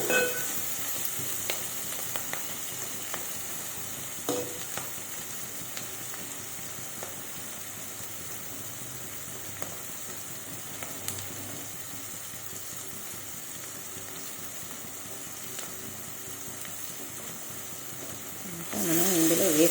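Chikkudukaya (broad bean) curry frying in a pan, giving a steady soft sizzle and hiss with faint scattered clicks of stirring. It stays fairly quiet throughout and swells briefly at the end.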